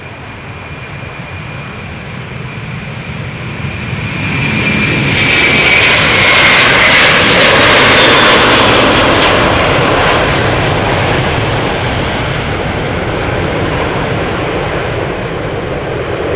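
A KLM Airbus A330-200 jet takes off at Amsterdam Schiphol, its engine roar loud and close, swelling to a broad peak midway and then holding a sustained rumbling thunder as it departs, with no voices.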